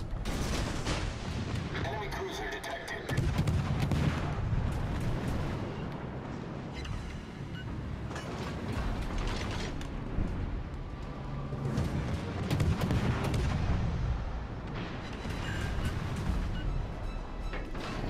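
Naval guns firing in the warship game World of Warships: Legends, several deep booming blasts and rumbling salvos spread across the span, loud and near, mixed with game sounds and voice lines.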